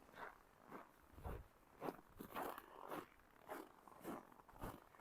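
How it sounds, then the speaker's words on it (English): Rhythmic crunching footsteps on packed snow in extreme cold around -26 C, downtown Regina in January, about nine regular steps over five seconds, close and fairly quiet with no talking. "And you can hear the crunch of the snow"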